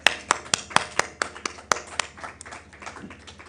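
Sparse clapping from an audience at a listing and cooperation agreement signing during the launch of a green exchange, with a few distinct claps standing out early and thinning out toward the end.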